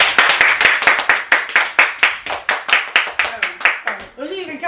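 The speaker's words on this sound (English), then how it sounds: "7 seconds to clap as hard as you can" Children clapping as fast and hard as they can during a timed challenge at home, sharp rapid claps in a steady rhythm close by, ending with a voice speaking as the clapping stops.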